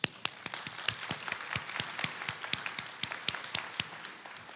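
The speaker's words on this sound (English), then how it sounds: "So they deserve a round of applause." A crowd applauding steadily, many hands clapping in a dense, sustained patter with sharp individual claps standing out, no voices.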